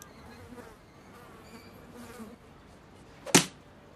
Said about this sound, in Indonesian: makan siangnya keganggu oleh kemunculan seekor lalat di sekitarnya